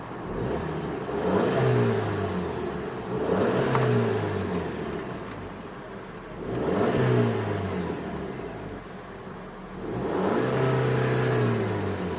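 A 2012 Volkswagen Eos 2.0T engine revved four times in a row, each surge climbing to the rev limiter and holding briefly before dropping back, loud and close with no talking.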